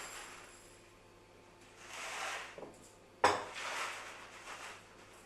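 A glass cup is set down on a kitchen counter while making a winter risotto: a sharp single clink near the middle, with softer dish-and-utensil handling noises around it, close and fairly quiet.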